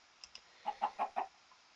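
A chicken jockey in Minecraft Bedrock clucks four times in a quick, even run, preceded by two soft clicks, clear and up close with no talking.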